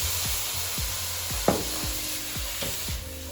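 Tofu stir-fry toasts in a hot pan with a steady sizzling hiss, punctuated by a series of regular scraping strokes from a wooden utensil as it is mixed, plus one sharper knock near the middle.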